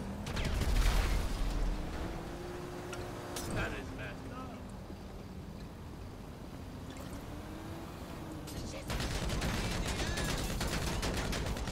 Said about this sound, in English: Let me shoot it up a little.